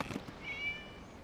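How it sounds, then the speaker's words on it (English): A cat in the video game True Tales of the Violet Garden gives one short, thin meow at middle distance over a faint hum, with no talk. "It was just a cat."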